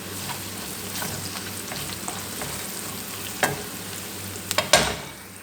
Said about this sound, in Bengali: আবারও এটিকে আমি কষিয়ে নেব।